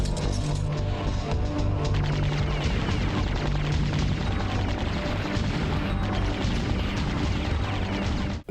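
Chained bomb blasts from the PS1 game Silent Bomber, a dense, continuous wall of loud booming and crashing detonations that rolls on without pause, with no voices.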